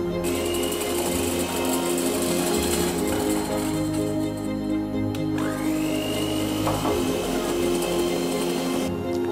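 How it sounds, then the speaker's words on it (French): Electric mixer whipping egg whites with icing sugar for a chocolate Yule log, a loud steady motor whir that holds throughout with a slight pitch shift midway. "J'ai fini de monter les blancs en neige"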